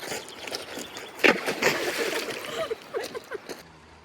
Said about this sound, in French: moi aussi je fais un ricochet